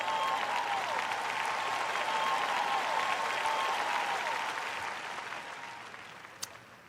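Sustained audience applause at a church sermon, dense and steady clapping filling a large hall, gradually fading toward the end with no speech over it.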